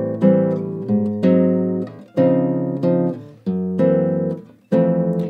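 Guitar plays a jazz bossa-style turnaround of four chords over two bars for a song, with rhythmic strummed chord stabs decaying between hits, clear and alone.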